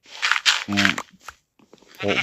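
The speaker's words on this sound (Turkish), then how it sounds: "Aa keçi." A goat bleats several times in the Minecraft video game, short wavering calls with gaps between them, while a person talks briefly in between.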